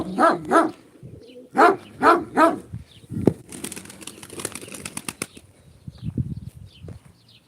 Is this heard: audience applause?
no